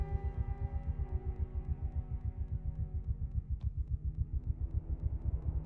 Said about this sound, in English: It sounds ugly enough like a heartbeat.